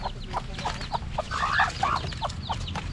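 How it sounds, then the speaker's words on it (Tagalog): Chickens cluck and squawk at a coop, with a rapid overlapping run of close, moderately loud clucks and a few higher calls over steady background noise. "May manukan pa."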